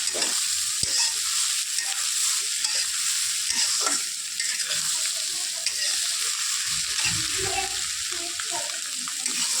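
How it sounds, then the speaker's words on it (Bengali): Fried rice sizzles steadily in a pan while a spatula scrapes and stirs it in irregular strokes, close and fairly loud, with no talking. "একটু ভেজে নেব, অল্প মিক্স করে।"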